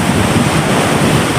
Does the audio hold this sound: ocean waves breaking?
yes